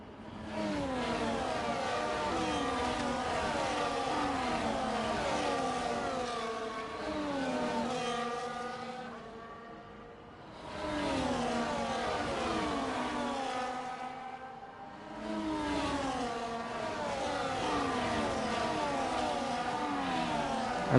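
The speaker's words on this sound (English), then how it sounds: "the Mercedes safety car will pull away here" A Mercedes safety car in a sim racing game at Belgium pulls away with repeated rising engine sweeps through the gears, loud and continuous, easing off twice briefly before climbing again.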